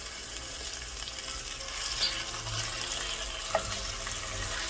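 Ground beef frying in a pan with golden onion and garlic, giving a steady close sizzle throughout with a soft stir or clatter near the end.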